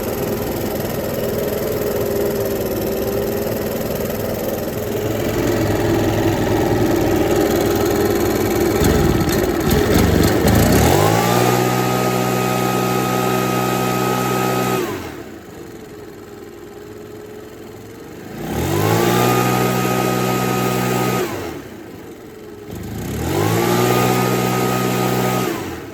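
A Makita RedMax EB7660TH backpack leaf blower is being serviced while it runs only on choke. The engine idles, then revs up in three sustained bursts, each one dropping back to a rough idle, loud and close with no talking.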